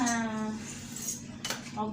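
Dishes and cutlery are gathered up in a home kitchen after breakfast, with clinking metal and ceramic knocks in a couple of sharp bursts over a steady low hum.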